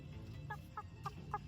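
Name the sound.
chicken clucking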